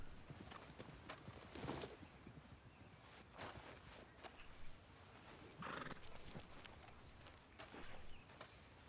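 A horse in Red Dead Redemption 2 is ridden along, its hooves clip-clopping steadily with occasional snorts and neighs, moderately near against a quiet outdoor background.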